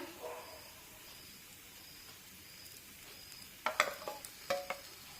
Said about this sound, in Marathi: आता यावर तेल सोडूया